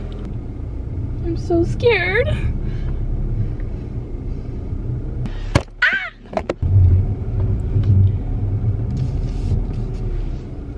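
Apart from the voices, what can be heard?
car being driven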